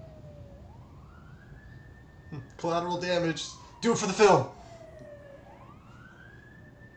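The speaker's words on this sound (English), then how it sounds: "You can hear the sirens in the background." An emergency siren wails in the distance, rising and falling slowly in long sweeps while two short bursts of nearby talk cut in partway through.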